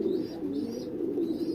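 Pigeons coo softly at a nest, a low repeated cooing murmur that continues throughout, faint and nearby, with no voices.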